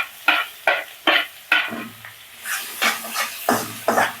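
Onions frying in a pan for egg bhurji, with a spatula tossing and scraping in a steady rhythm of sharp strokes over a hot sizzle, close and fairly loud, no voices.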